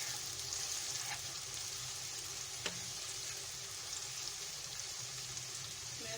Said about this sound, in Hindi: ये एक कढ़ाई में मैंने ऑयल लिया है, उसमें मैंने प्याज डाल दिए हैं। प्याज को मैं ब्राउन करूँगी।